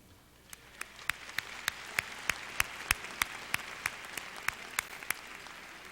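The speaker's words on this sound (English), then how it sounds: "Now we can applaud." Audience applause at a University of New Orleans fall commencement ceremony: steady, moderate clapping from a large crowd in a hall, with sharp individual claps standing out in a regular rhythm throughout.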